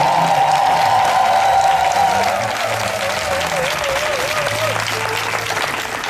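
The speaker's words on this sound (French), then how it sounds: "Et je voudrais qu'on acclame très fort aussi." A charismatic renewal congregation at an evangelisation gathering breaks into loud, sustained applause and acclamation, a dense crowd of clapping that holds steady for several seconds. A high sustained tone and some voices sit underneath it.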